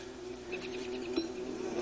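A buzzing bee in the survival video game Don't Starve, a steady droning hum held for the whole moment with faint fluttering above it, moderately close.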